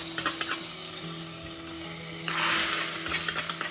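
Fried coconut pieces are poured into a thick home-style chicken curry and hit it with a sudden loud sizzle, after a few soft stirring clicks and scrapes.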